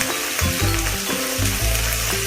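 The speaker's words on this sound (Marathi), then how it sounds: "ते पण छान परतून घ्यायचे" A spiced potato mixture with garlic paste and coriander seeds sautés in a pan for aloo gonda vada, giving a loud, continuous sizzle with rhythmic stirring scrapes and a faint tonal background, no speech.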